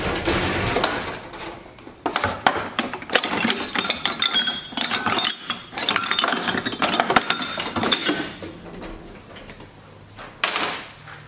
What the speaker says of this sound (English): Now I'm gonna get my little body hammer.